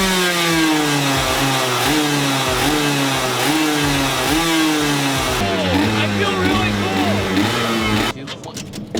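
Go-kart engine with no choke being warmed up while the airbox is covered by hand, revving in repeated buzzy bursts up and down close by before cutting off abruptly near the end.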